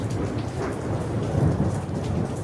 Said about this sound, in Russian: ты не боишься грома?